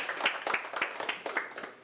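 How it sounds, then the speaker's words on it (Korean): An audience at a lecture show applauds, a brief burst of dense, close clapping that swells and then fades over a couple of seconds. "박수 한번 칩시다"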